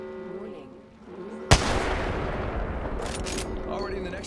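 Grenade blast in a battle-royale shooter video game: one sharp loud burst at about 1.5 seconds followed by a sustained rumbling roar, with game sounds around it.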